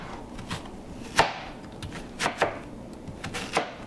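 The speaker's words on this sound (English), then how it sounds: "So now I have my onion, and I'm just going to do some quick large chop chunks on here." An onion being chopped into large chunks on a cutting board for beer brats, a handful of separate knife thuds at an uneven pace, close and fairly crisp with no talking.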